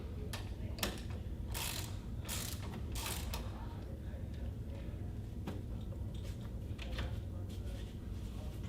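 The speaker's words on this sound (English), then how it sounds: "We'll put the nut back on. 17mm socket. Tighten it back down." A 17mm socket ratchet tightens a nut onto a motor, giving close rapid clicking bursts in quick repeated strokes, then a few slower isolated clicks over a low background hum.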